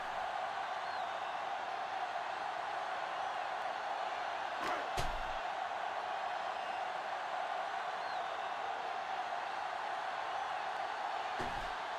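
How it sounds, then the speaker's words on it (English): A home stadium crowd roars steadily in a football video game after a touchdown catch, a loud continuous wash of cheering with a couple of sharp thuds, no voices standing out. "this Shitbirds crowd is back on their feet"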